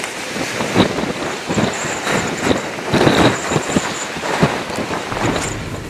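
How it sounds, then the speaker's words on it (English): Strong, gusting wind at Tehachapi Loop roars and buffets the microphone in broadband surges, with a faint whistling tone drifting in and out above the rumble. "I don't know if you can tell, but it is really windy out there."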